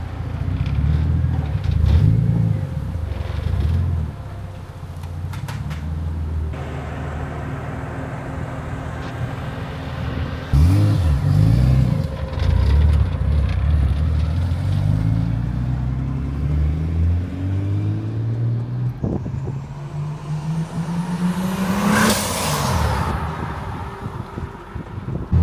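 A Ford BA XR6 Turbo running and driving, its engine rumbling and revving up through rising pulls, with wind noise over the microphone and no talking.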